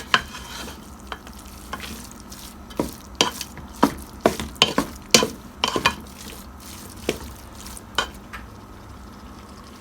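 Ground beef browning in a pan for stovetop chili sizzles softly under repeated sharp scrapes and clacks of a spatula, irregular and close, with no talk.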